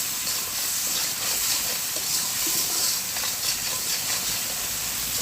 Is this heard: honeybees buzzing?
no